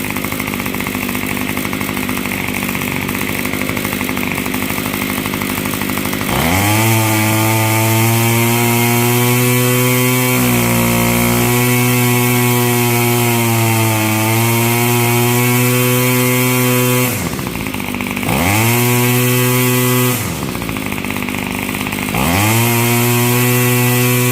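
A Yard Machines Y2510 gas string trimmer's small two-stroke engine idles roughly, then revs up and holds high, dropping and rising again several times; loud and close, no voices.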